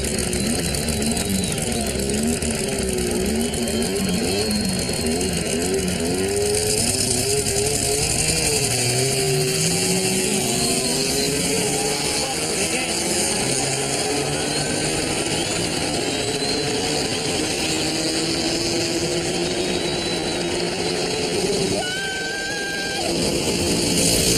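A scrapheap-built dragster engine roars loudly and continuously as the car launches off the line at a drag race, with a sustained high-revving drone and rising pitch sweeps over heavy mechanical noise.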